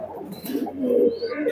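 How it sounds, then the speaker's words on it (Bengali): A Rampuri pigeon, a locally bred male, gives a short, close, throaty coo with a soft rolling burble, clear and fairly loud, with no voices. "এটা হচ্ছে রামপুরি কবুতর।"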